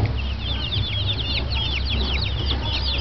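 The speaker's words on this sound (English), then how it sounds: "look at this little tiny chick." Tiny newly arrived baby chicks on a farm in the Philippines chirp in a steady stream of high, rapid peeps, close and continuous over a low background rumble.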